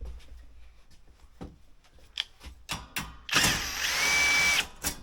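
Power drill backing screws out of a jacket assembly, several short faint bursts followed by a louder sustained whirring run of about a second, with clicks and handling noise between.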